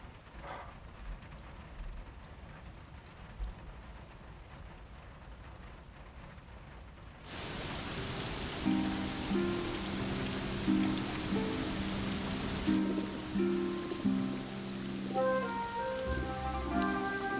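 Steady rain pours down, a dense hiss that starts suddenly partway through and continues, with soft music joining beneath it.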